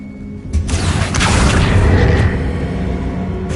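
A Confringo spell explosion in Hogwarts Legacy, a single loud booming blast that bursts in with a sharp onset, swells into a dense rumble, then slowly decays.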